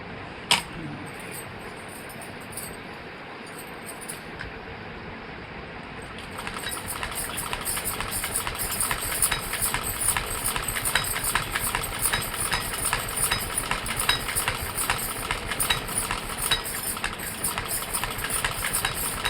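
A sewing machine stitches fabric, starting with quiet intermittent clicks and then settling into a loud, steady, rapid mechanical whir that runs continuously to the end.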